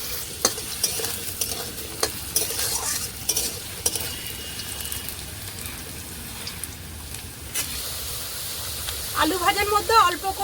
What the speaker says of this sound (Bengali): আলুটা এবার ভেজে নেব।